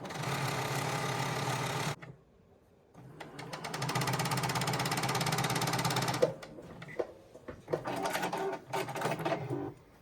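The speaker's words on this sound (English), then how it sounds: "just sew this underarm seam with a 5/8 inch seam allowance" A sewing machine stitches an underarm seam in long steady runs of fast, even whirring, close and loud. The runs are broken by a brief stop and then shorter bursts near the end.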